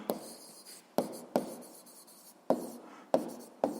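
Pen writing on paper during a physics exercise, heard as close, faint scratching strokes broken by several sharp taps as the pen meets the page.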